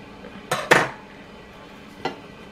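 Apple turnovers flipped out onto a plate, giving two close clattering knocks of pan and dish within a split second, then a single lighter clink a moment later, with a quiet room behind.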